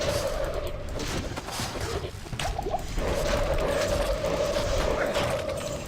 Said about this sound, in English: Put a corpse explosion in that mass and just head out and see what's happening.